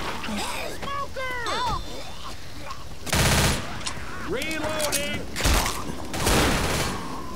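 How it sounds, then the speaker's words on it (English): Bursts of gunfire in the video game Left 4 Dead as a player shoots teammates, loud rapid volleys around the middle and end, mixed with game noise and talking voices throughout. "I just shot my teammates a whole bunch"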